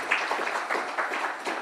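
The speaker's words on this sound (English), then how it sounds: "Another round of applause for the wonderful group." A launch-event audience applauds a group, a steady wash of moderately close clapping for under two seconds with no voices.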